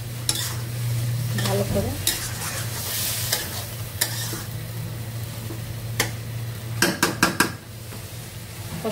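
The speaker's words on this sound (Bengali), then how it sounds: "মশলা দিয়ে দিলাম, দিয়ে এখন কষায় নেব একটু" Spices being sautéed in a pan with steady stirring, a continuous sizzle under repeated spoon scrapes and clanks against the metal, close and fairly loud, with a brief spoken word partway through.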